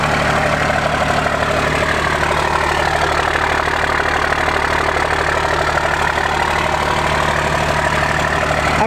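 A 12-valve Cummins diesel engine idles loudly and steadily right after a cold start on its first run in a month, with a continuous deep, rough, knocking rumble that stays close and constant throughout.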